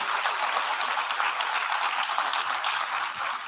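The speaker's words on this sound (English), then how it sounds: "So give her another clap," A church congregation claps during a Good Friday Seven Last Words service, a steady moderate-level patter of many hands that carries on evenly, with no voices over it.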